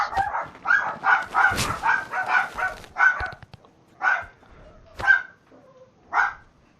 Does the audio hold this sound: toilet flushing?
no